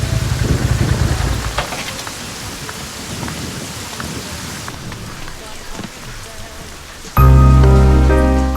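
Heavy rain falls steadily with a broad hiss, a rumble of thunder underneath, then a sudden loud tonal burst near the end.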